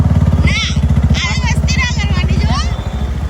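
A motorcycle engine chugs in a rapid, steady throb close by while someone talks over it.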